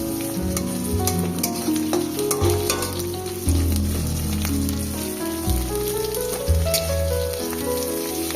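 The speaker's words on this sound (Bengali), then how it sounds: "এবার পেঁয়াজ আর করলাটা দিয়ে বেশ কিছুক্ষণ একটুখানি নাড়াচাড়া করে" Onion and bitter gourd sizzle loudly as they fry in a pan, stirred steadily so the crackling rises and falls over a continuous hiss, close up with no talking.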